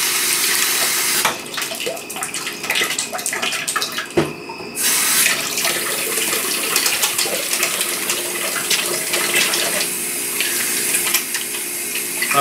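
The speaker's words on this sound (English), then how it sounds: "wash hands again" Tap water runs steadily into a sink while hands are washed, a close continuous splashing gush with a short break and shifting spatter as the hands move under the stream.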